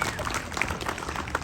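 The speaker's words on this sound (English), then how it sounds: "Yes, please clap." An audience at a May Day labor gathering in Providence applauds, a brief dense burst of clapping with faint voices mixed in.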